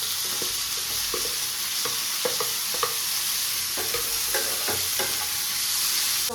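Onions frying in a pan with a steady sizzle and repeated clinks and scrapes of a spoon stirring them, close and continuous without talk.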